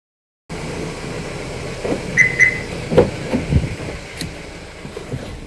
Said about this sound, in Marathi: आपण कडवई स्टेशनला आहे इथं रेल्वे स्टेशन